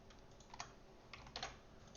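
Quick typing on a computer keyboard while code compiles, a soft steady patter of key clicks with a few sharper, louder taps standing out, close and alone without any voices.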